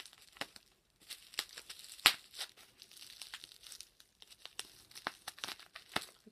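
A crinkly plastic food package is torn open, producing close, faint crackling and crumpling bursts with a sharper rip partway through.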